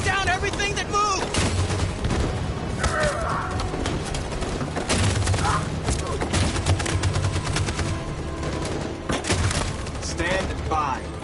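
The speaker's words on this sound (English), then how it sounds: "That machine gun is taking down everything that moves!" Heavy machine gun fire in Detroit: Become Human, sustained rapid bursts and crackling shots mixed with other gunfire and loud battle noise, with shouted voices over the top.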